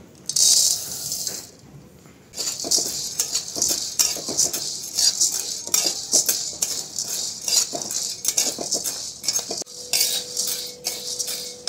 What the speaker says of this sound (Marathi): आता आपण हरभऱ्याची डाळ भाजून घेऊ।